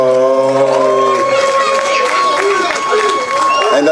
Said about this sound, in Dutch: Mag ik een warm applaus voor